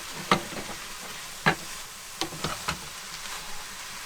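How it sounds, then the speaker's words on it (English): Beef and broccoli tossed together in a frying pan in an RV kitchen, a soft background sizzle broken by several sharp spatula scrapes and knocks at irregular intervals, close by and with no speech. "So now you take your beef, throw it back in, give it a good mix."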